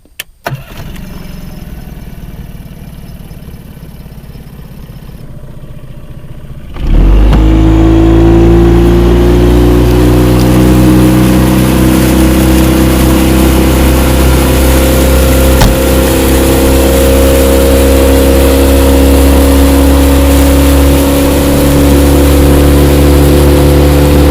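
A small boat's outboard engine, fitted with a four-blade propeller, cranks and catches after several quiet seconds, then settles into a loud, steady close-up running drone.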